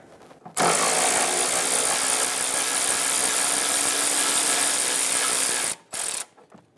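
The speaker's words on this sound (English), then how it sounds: "Remove the 10mm bolt for the brake line bracket." A power tool removes a 10mm brake line bracket bolt on a 2008-2017 Buick Enclave front suspension, giving a loud, steady ratcheting whir for about five seconds, then a short second burst, with no talk.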